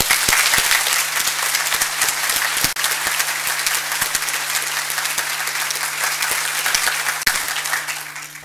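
An indoor town hall audience in Sulphur Springs breaks into loud, sustained applause, a dense wash of many hands clapping steadily for several seconds with a low electrical hum underneath.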